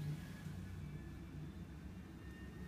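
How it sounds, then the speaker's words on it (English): Boeing 727 auxiliary power unit cranking over during a cold start, a steady low rumble with a faint rising whine, heard from the flight deck at moderate level throughout. "APU's cranking down there at the bottom."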